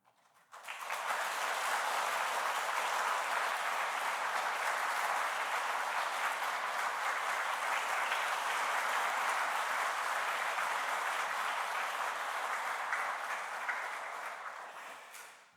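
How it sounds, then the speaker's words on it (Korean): Congregation at a church anniversary thanksgiving service applauds the pastor, a sustained, dense round of hand clapping from a large crowd that starts abruptly, holds steady and loud for over twelve seconds, then tapers off. "여러분 큰 박수로 한번 목사님 감사합니다 한번."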